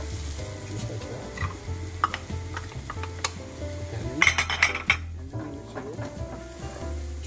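Chipotle sautés in a pan for linguine fini carbonara, a close, continuous sizzle broken by clinks and scrapes of a utensil against the pan, with a low steady hum underneath.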